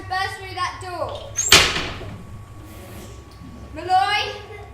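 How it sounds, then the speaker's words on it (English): A door bursts open with a sharp, loud bang in a 2018 film scene, a single crashing impact between stretches of tense dialogue. "He's about to burst through that door."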